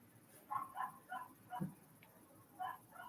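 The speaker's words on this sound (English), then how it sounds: "We all know the tiny little doggy who barks?" A small dog barks in a quick series of high yips, about five or six short barks spread over a few seconds, moderately near and without voices.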